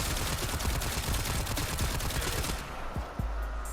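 Rapid gunfire from a Quellor weapon in the video game Warframe, a dense burst of repeated sharp shots close up that stops after a few seconds, leaving a low rumble.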